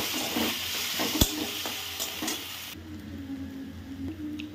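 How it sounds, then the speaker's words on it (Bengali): Fried dry Bombay duck fish and onion stirred into spices in a pan, a steady sizzle with occasional spoon knocks and scrapes, close, the frying noise dropping to a softer simmer partway through. "দিয়ে দেবো আগের থেকে ভেজে রাখা পেঁয়াজ আর শুকনো মাছ, ভালো করে মশলার সাথে মিশিয়ে নেব"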